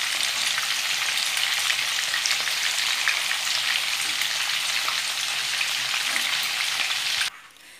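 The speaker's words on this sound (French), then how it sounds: "Donc faut les retourner pour les faire frire des deux côtés." Potato croquettes filled with minced meat fry in a pan with a steady, dense sizzle that holds loud and even before dropping off abruptly near the end.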